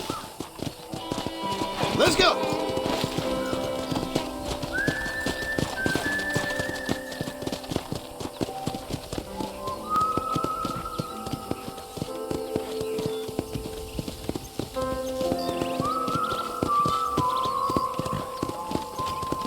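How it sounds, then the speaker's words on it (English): Horse hooves clip-clop steadily under a rider in the Red Dead Redemption video game, with a brief whinny and someone talking over the hoofbeats alongside music. "Mount my new horse."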